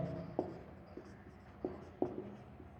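Chalk or marker writing on a board during a lesson, a handful of sharp taps and short scratchy strokes spaced irregularly, close but quiet, with no speech over them.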